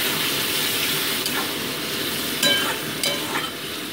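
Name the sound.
sautéing spice paste and chopped tomatoes with fried potatoes and onion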